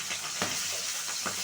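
Pointed gourd (potol) fries in a pan with a steady broadband sizzle, brief stirring scrapes rising over it, close and moderately loud with no voices.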